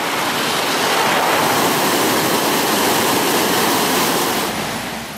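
Floodwater from the overflowing Arhavi creek in Artvin rushes loud and steady after heavy rain, a dense continuous roar of churning water with no voices, easing slightly at the very end.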